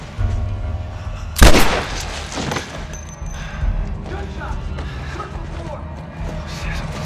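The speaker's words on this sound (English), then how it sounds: "Gunshots!" Gunfire in The Last of Us, a sharp loud shot followed by a booming echo and scattered rumbling impacts in a tense indoor scene, with game voices underneath.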